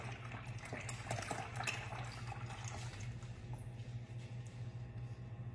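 Liquid pouring steadily into a coffee maker while brewing a caramel macchiato at home, a continuous close trickle and splash over a low mechanical hum, with no talking.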